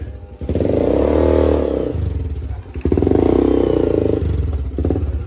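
A modified Yamaha LC135 motorcycle with a 57mm full-spec engine build revs hard twice in a row, a loud, close, rasping roar with a short dip between the two pulls.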